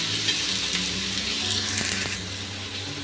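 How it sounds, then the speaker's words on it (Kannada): Tomatoes fry in a pan with a steady close sizzle, stirred briefly with a few light scrapes and clicks partway through, the hiss carrying on evenly to the end. "ನಾವು ಟೊಮೊಟೊ ಕೂಡ ತುಂಬ ಸಾಫ್ಟಾಗಿ ಫ್ರೈ ಮಾಡ್ಕೊಳ್ಳೋಣ"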